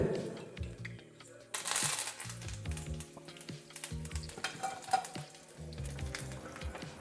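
Curry leaves and dried red chillies spluttering in hot oil for a peanut chutney tempering, crackling bursts and sharp sizzle over a close pan with scraping stirs, no talk.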